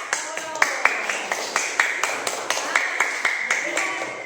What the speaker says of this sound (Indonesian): Bisa tepuk tangan dong buat Emre, Aska, sama Lanaya